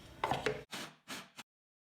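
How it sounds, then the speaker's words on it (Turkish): Three short whirring bursts of a food processor chopping tomatoes, each lasting under half a second with brief pauses between, close and clear. "Şimdi rondomuzdan çekiyoruz."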